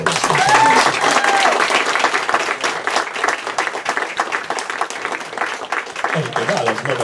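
Sustained applause from a theatre audience honouring Hungarian actress Pásztor Erzsi at a celebration in Mohora, dense clapping filling the whole stretch at steady loudness, with brief tonal sounds early and a low murmur near the end.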